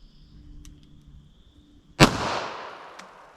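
A single loud 9mm pistol shot from a 5-inch barrel firing Remington Golden Saber ammunition cracks out after a quiet stretch, followed by a short decaying echo.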